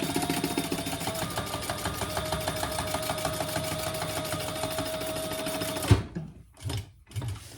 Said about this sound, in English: just sew down each side